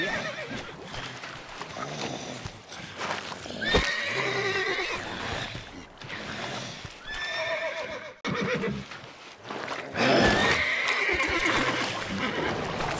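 Roach, the horse in the video game Witcher 3, whinnies loudly several times over steady clip-clop hoofbeats, close and clear with no talking.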